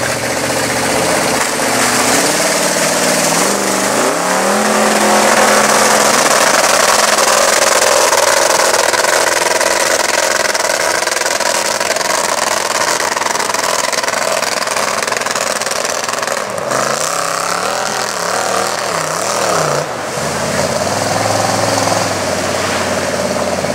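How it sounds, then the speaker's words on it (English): A 4x4 monster mud truck at a Friday 4x4's mud event is revved hard and held against its rev limiter, a loud, unbroken engine roar whose pitch wavers and bounces in the later seconds. "Likes that rev limiter."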